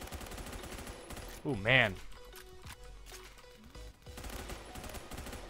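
M4 rifle fire in the video game Phantom Forces: rapid strings of sharp shots crack through the mix, with a player's voice briefly exclaiming in between.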